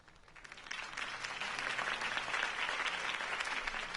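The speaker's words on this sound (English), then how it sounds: "could have heard that applause" A crowd applauds a campaign speech for a city election, the clapping swelling from a soft start into steady, full applause from many hands, fairly distant and with no talk over it.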